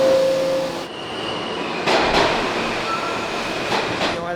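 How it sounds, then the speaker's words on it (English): Ride aboard a New York City N subway train: a loud, continuous rumble of the moving car with rising metallic squeals and tonal whines from the wheels and motors, plus occasional clunks over track joints. "What are we taking? The N train."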